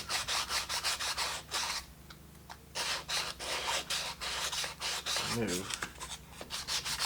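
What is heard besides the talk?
sanding edges of a decoupaged wooden coaster box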